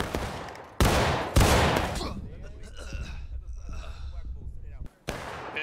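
Musket volleys crack out in a Civil War–era War of Rights battle, with several loud, dense bursts early and another near the end, separated by a stretch of quieter battlefield noise and voices talking.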